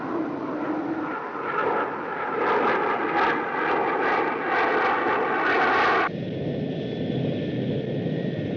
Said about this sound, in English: It's an aircraft.